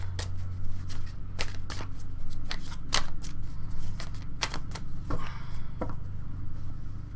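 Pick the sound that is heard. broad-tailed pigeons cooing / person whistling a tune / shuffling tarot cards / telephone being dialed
shuffling tarot cards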